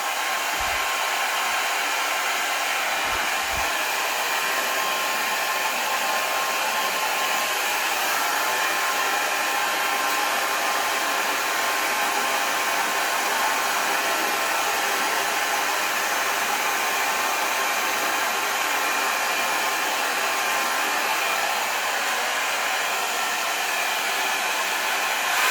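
An Ion LUXE ceramic coconut-oil-infused compact hair dryer runs on its second heat setting, a steady, loud broadband whoosh with an even whine that holds without break for the full stretch, close to the microphone and with no talking.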